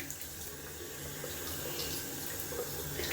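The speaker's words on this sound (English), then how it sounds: "Just rinsing off the rim down here" Tap water running steadily to rinse a shaving soap tub rim in a sink, a constant faint splashing hiss throughout.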